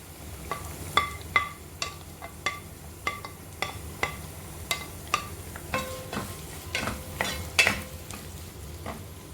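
Onions sauté in a pan for paneer masala, a low steady sizzle under a regular series of sharp spatula clicks and scrapes against the pan, roughly one per second, with no voices.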